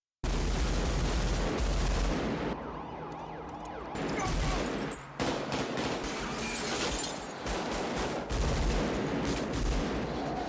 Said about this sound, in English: Those gunshots are like so nice in your ears.